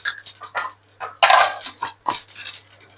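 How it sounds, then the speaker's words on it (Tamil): Mustard, cumin and fenugreek seeds spluttering in hot oil in a pan, heard as irregular close crackling bursts and pops separated by brief gaps over a faint low hum. "கடுகு, சீரகம், வெந்தயம் இப்படி பொரிஞ்சு வரைக்கும்"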